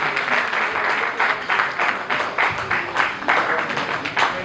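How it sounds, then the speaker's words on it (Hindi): Applause from a gathered audience at a retirement farewell ceremony, a steady wash of clapping that holds for several seconds at moderate loudness, with some voices mixed in. "ऐसे हमारे श्री सतपाल जी, मैं चाहूँगा तालियों के साथ उनका स्वागत"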